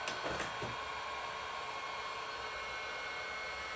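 A heat gun used while cleaning a Lexus LS 400 mass air flow sensor runs with a steady, faint blowing hiss and fan whine, continuous and unchanging apart from a brief click near the start, with no voices.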